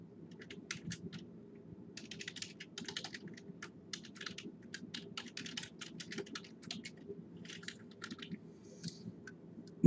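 Steady typing on a computer keyboard as code for adding a UI fragment is entered, a long run of crisp close key clicks in irregular bursts over a low constant room hum, with no voice.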